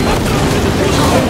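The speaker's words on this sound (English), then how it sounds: "Hold on, grenade here." A grenade explodes in the video game Warhammer 40K: Space Marine 2, a loud dense blast filling the whole moment with broad rumbling noise.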